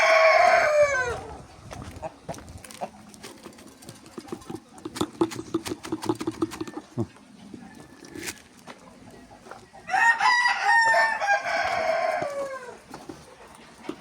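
Chickens cluck and squawk nearby while being fed a feed mixture, with roosters crowing loudly at the start and again near the end, plus scattered rustling and pecking sounds.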